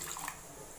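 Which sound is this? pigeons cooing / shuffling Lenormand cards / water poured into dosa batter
water poured into dosa batter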